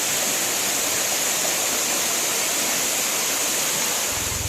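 A waterfall on Tioman Island roars steadily and loudly, a dense, unbroken wash of falling water filling the whole stretch with no voices or other sounds.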